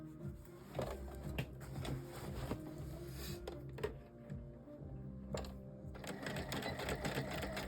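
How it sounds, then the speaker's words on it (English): Sewing machine stitching a drawstring channel on a handmade backpack, running in a steady, close, rapid mechanical chatter with a brief pause or two before it resumes. "So I'm going to go ahead and stitch one of these."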